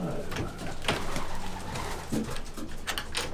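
Homing pigeons coo repeatedly in a loft, soft throaty calls coming in overlapping bursts close by, with a voice murmuring faintly in the background.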